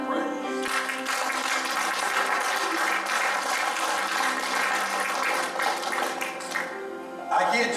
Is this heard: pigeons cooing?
no